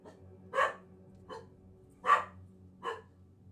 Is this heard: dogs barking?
yes